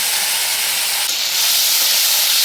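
Ground spice paste is dropped into hot oil and sugar in a pan for chana paneer, giving a loud, steady, close sizzle that hisses without a break and swells slightly halfway through.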